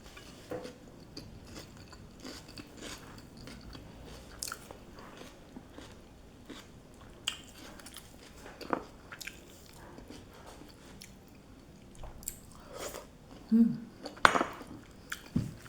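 Crunchy chewing and biting during a solo mukbang of sweet potato tops and other dishes, faint close-up mouth sounds and occasional clicks spread irregularly over quiet background.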